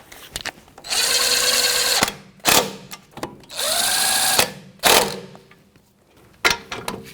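A power tool with a 13mm socket snugs up a bolt on the front strut mount of a 2007-2017 Jeep Patriot 2.4L, whirring in two sustained close bursts separated by short clicks and clunks.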